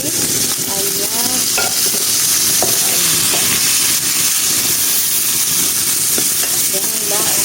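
Broccoli stir-fried in a pan for a Filipino ginisang broccoli with carrot and ear mushroom, a loud steady sizzle with scraping stir strokes and clinks throughout, no talking.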